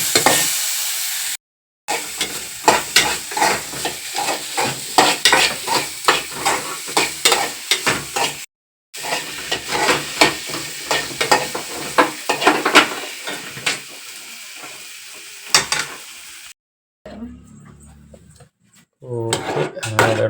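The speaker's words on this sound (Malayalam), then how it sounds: "എണ്ണ വീത്തി കടുക് താളിച്ച് കരിവേപ്പില ഇട്ട് ഇപ്പോൾ ചെറുതായിട്ട് അരിഞ്ഞ സവാളയും കൂടി ഇട്ട് കൊടുത്തിട്ടുണ്ട്" Chopped onions sizzle and crackle in hot oil with mustard seeds and curry leaves, a steady frying hiss broken by repeated spoon stirring and scraping against the pan, with someone talking over it.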